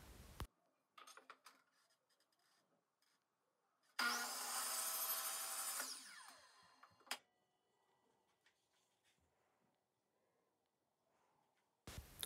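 A miter saw cutting a wood piece for hexagon shelves, one loud close whining cut of about two seconds that winds down, set between faint clicks and handling noises.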